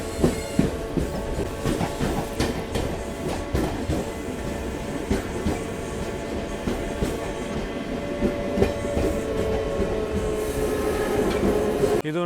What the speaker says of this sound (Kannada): ಇದು ನಮ್ಮ ವಿಜಯಪುರ ಹುಬ್ಬಳ್ಳಿ ಮೆಮು ತಲುಪಿದೆ.